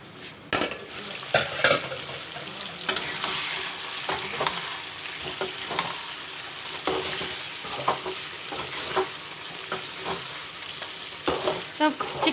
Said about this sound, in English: The chicken is frying with the masala